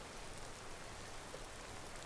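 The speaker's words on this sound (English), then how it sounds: "the rain's a bit loud now" Steady rain falling in Skyrim, a dense even hiss of drops with no pauses, heard alone and fairly close.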